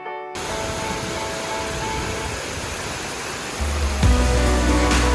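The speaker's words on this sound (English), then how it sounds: "Close to the waterfall and it was crazy. It was so strong." Roaring, steady rush of Tumpak Sewu, Java's biggest waterfall, heard up close as a dense wall of spray and crashing water that swells louder near the end, with no talking.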